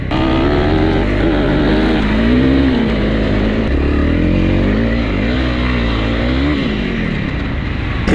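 Honda CRF300L 2025 trail motorcycle ridden hard off-road in enduro terrain, its single-cylinder engine droning loud and close throughout, pitch rising and falling as the rider works the throttle.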